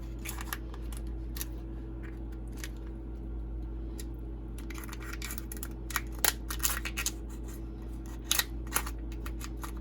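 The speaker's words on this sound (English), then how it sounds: "Take my little kitchen scissors." Scattered sharp snips and crunches from small kitchen scissors cutting through crab shell, irregular and close, over a steady low background hum.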